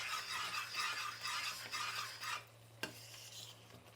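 Mysore pak mixture of gram flour and oil being stirred in a pan, a close rasping scrape of the ladle with soft sizzling that quiets midway, then one sharp clink of metal.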